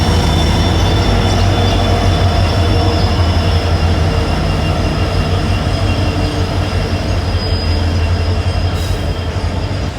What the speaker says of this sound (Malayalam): ഇത് കുലം ഭാഗത്തുനിന്ന് വരുന്ന ഒരു ഗുഡ്സ് ട്രെയിനാണ്.